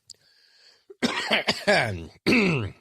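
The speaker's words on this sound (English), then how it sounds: "I probably have to clear my throat and chest a couple of times" Close, loud coughs and throat clearing from a person, starting with a faint rasp and a brief pause before several harsh, chesty coughs in quick bursts, then a final heavy cough.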